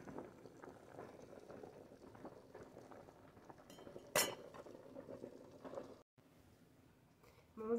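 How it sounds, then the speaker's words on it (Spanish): Black beans boiling in a pot in a home kitchen: soft continuous bubbling and simmering under faint clinks of cutlery and dishes, with one sharp metallic clank partway through. "aquí ya también estoy cociendo unos frijolitos negros, ya están hirviendo"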